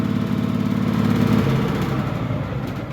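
A Yanmar diesel engine in a Cub Cadet mower idles after a cold start with a steady, close mechanical chug that eases slightly toward the end.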